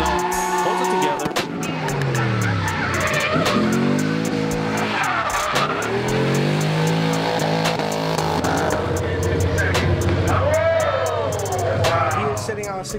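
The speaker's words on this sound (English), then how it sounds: "You can hear him bouncing off that red limiter" A drift car at a drift series event bouncing off the rev limiter, loud rapid stuttering engine revs mixed with tire squeal and skidding, with an announcer talking over it and a crowd faintly behind.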